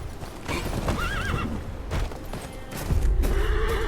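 A horse in the video game Game of Thrones: Kingsroad whinnies with a wavering neigh over steady clip-clopping hooves, loud and close, with no talk.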